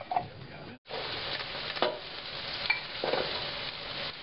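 Bacon fat sizzling in a frying pan while tamale fillings are cooked, a steady close crackle and hiss with occasional stirring scrapes and a brief gap near the start.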